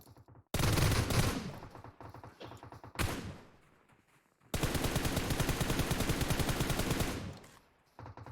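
Gunfire exchanged between teams in a battle royale video game: loud sustained automatic bursts, one long rapid volley and shorter blasts separated by gaps, close and dense.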